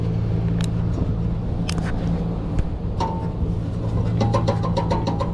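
A commercial HVAC motor with worn-out bearings runs with a steady low hum and drone, joined by a faint high whine and scattered ticking clicks that grow more frequent toward the end.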